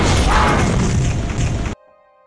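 A loud, dense blast from an action film, where a trap detonates during a SWAT team hostage standoff, roaring broadband for nearly two seconds before cutting abruptly to near silence with a faint tonal hum.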